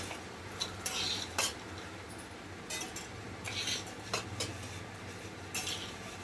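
A spoon scraping and clinking as white rice is served onto a plate, with soft intermittent utensil taps and clatter close by over a low background hum.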